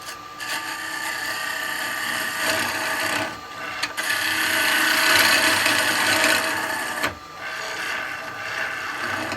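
A woodturning lathe tool scrapes and cuts into spinning wood, producing a steady, close, loud rasping hiss that continues with brief dips as the tool grabs and lifts.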